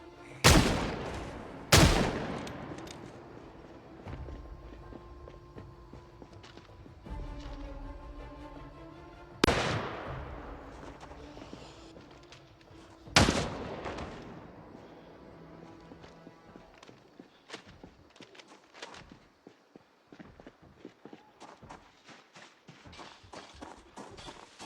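Loud sharp gunshots ring out in Project Zomboid, four spaced blasts in the first half followed by a scatter of softer rapid cracks and footstep-like taps, with no talking.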